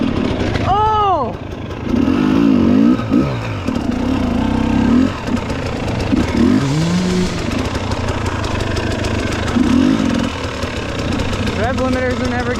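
A dirt bike engine on a private track in Costa Rica buzzes hard and loud, revving repeatedly into the limiter with a rough stuttering pulse, while voices shout and talk over it throughout.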